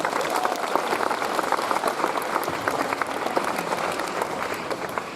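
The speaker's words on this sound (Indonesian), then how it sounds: "Kita beri tepuk tangan untuk kita semua." Audience applause at a school morning assembly, a dense, steady patter of many hands clapping for the whole stretch, moderately loud and with no talk over it.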